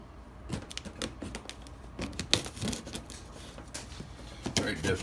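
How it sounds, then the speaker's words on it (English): Scissors snip and tear through packing tape on a cardboard box, a series of short irregular cutting and crinkling bursts, close and moderately quiet. "I'm going to cut that tape."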